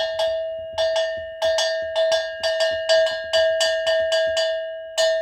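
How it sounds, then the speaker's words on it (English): A dero, an African metal bell, struck repeatedly in a steady, uneven rhythm, each clang bright and ringing, some strikes doubled in quick pairs, close and loud. "Dero is also a very nice instrument that also sometimes we use to call the community together"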